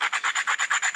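Rhythmic rasping strokes of an abrasive stone scraped along a flint edge for knapping, about nine even back-and-forth passes in one second, close and steady with no talking.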